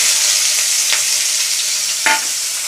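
Onions fry in a hot pan with a loud, even sizzle, broken by two short bursts of sharper crackle as the pan is stirred.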